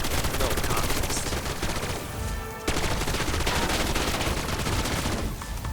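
Rapid gunfire against zombies in the Liberty Falls zombies game, dense continuous automatic bursts that are loud and close, briefly thinning before resuming with heavy fire.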